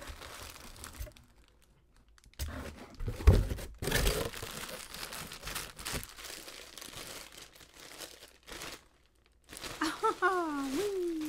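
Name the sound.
unwrapping small packets from an adult colouring haul box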